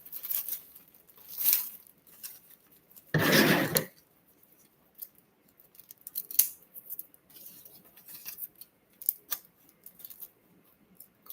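Scissors cut pink and yellow ribbon while a bow is made: one loud, close cut stands out among several faint snips and soft rustles, with quiet pauses in between.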